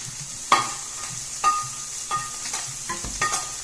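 Sweet potato, apple and pear hash with sage sizzles in a pan while being stirred, soft continuous frying with several scraping stirs of a utensil, close and fairly quiet.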